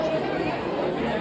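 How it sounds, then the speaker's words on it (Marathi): Dense crowd chatter fills the Ekvira temple on the second day of Navratri, a continuous close murmur of many overlapping voices with no single speaker standing out. "खूप गर्दी आहे"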